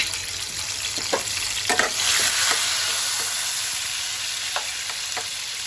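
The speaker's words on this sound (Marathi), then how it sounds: "आता मी पहिलं तेल गरम झाल्यावरती त्यामध्ये टाकून घेत आहे" Ginger-garlic paste sizzles steadily in hot oil for a fish curry, a broad, continuous frying hiss with a few scraping stirs of a spoon against the pan, close and fairly loud, with no talking.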